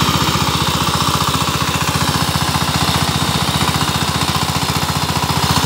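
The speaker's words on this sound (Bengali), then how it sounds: "ইঞ্জিনের সাউন্ডটা খুবই ভালো, ব্যাপক সাউন্ড দিচ্ছে" A Sifang 25hp diesel power tiller with 28 blades runs steadily close by, its rapid, even engine knock pulsing loud and continuous with no talk.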